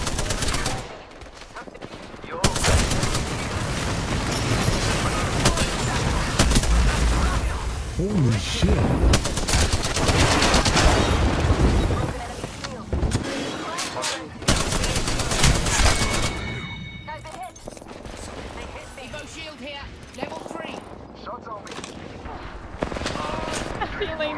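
Dense, loud gunfire from Apex Legends on the Storm Point map keeps up rapid automatic bursts and single shots almost without pause, with game noise and voices talking mixed in.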